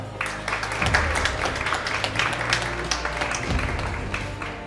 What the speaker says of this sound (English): Innovator of the Year Award goes to, round of applause, Hegia.